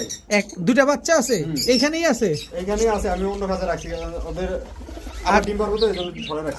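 Soft, repeated cooing and warbling calls from large Lakka, King and Shirazi pigeons close by, rising and falling continuously with a few brief chirps mixed in.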